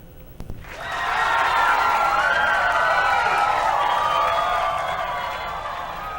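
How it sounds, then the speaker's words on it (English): A studio audience at a TV game show breaks into sustained applause with some cheering, building quickly after a brief thump and holding steady at full volume before easing slightly. "I would love for you all to give a round of applause for our wheel spinner and lovely producer of this beautiful game show"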